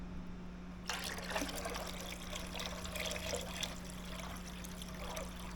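Engine oil pours into a tractor in a steady liquid trickle that starts about a second in and runs on continuously at low level, with a constant low hum underneath.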